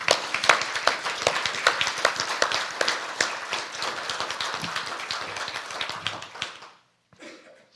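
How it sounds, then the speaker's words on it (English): Graduation audience applauding the graduates of a social justice leadership cohort, a dense, steady burst of many hands clapping for about six seconds before cutting off, followed by a faint trailing clap. "Can we give them another round of applause?"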